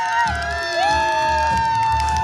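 Crowd at an outdoor festival, a continuous mass of cheering and shouting voices with whoops rising above music, loud and close throughout.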